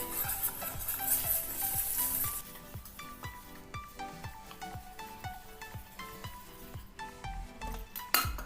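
A spoon or hand clinks and scrapes rhythmically against a bowl while peanut pakoda batter is mixed with water, repeated close stirring knocks with no talking.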